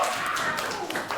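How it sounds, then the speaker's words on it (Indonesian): A classroom of students claps together for a classmate during a maths lesson, a short burst of dense, even clapping heard up close. "tepuk tangan buat Fazril."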